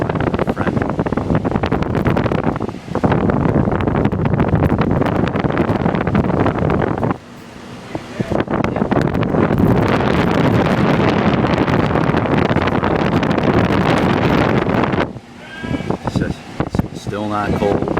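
Heavy wind buffets an outdoor microphone in a loud, continuous roar, easing off briefly twice before surging back; a voice is present in the mix.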